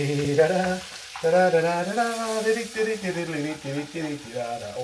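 Butter melting in a pan gives off a faint, steady sizzle and hiss, heard under nearly continuous speech from a person in the kitchen.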